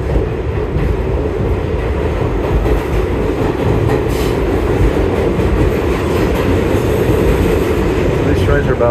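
An old New York subway car riding from Long Island City toward the Upper East Side, a loud continuous rumble and rattle of wheels on track with faint squeals, steady throughout.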